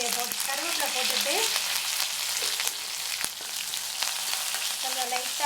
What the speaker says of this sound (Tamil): இப்போது வத்தல் வறுபட்டுருச்சு, இதை அடுத்து கருவேப்பிலை போட்டுட்டு